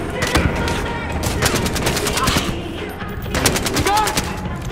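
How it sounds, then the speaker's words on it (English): Rapid gunfire in the Battlefield Hardline video game, loud bursts of automatic shots in quick clusters with scattered single cracks, heavy and close throughout with a busy background of game noise. "I hear gunshots"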